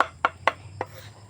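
A blade chops through a banana stalk being cut up as pig feed, making three or four crisp, separate thuds about a quarter second apart, close and clear with no talking.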